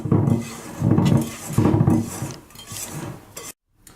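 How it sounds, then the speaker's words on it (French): A spatula folds egg whites into melted chocolate for a chocolate mousse, giving soft repeated scraping and rubbing strokes against a bowl in a slow rhythm, close and fairly loud, with no talk. "On va soulever en fait les blancs d'œufs pour les incorporer à notre chocolat."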